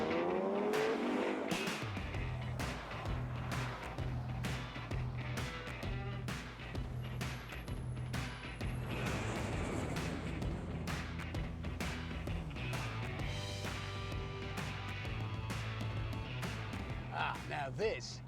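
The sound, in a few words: Ford Mustang car driving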